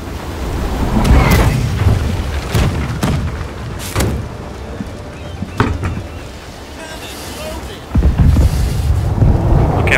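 Heavy cannon fire between sailing ships in the naval game Blackwake, with repeated deep booms, some near and some distant, under steady wind and water noise and spoken voices.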